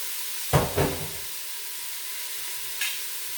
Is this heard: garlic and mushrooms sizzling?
yes